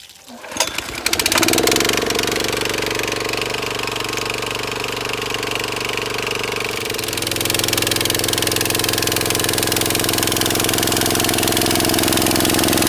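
A farm water pump engine starts with a clatter, then runs at a steady, loud mechanical idle, drawing water from a trough on a New Zealand dairy farm; the drone shifts slightly in pitch midway and continues without talk.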